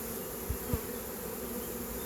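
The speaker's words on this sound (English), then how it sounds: "that is a mass of bees already going in" A dense, steady buzz of a honeybee swarm entering a hive hums close by, with a couple of faint thumps near the start.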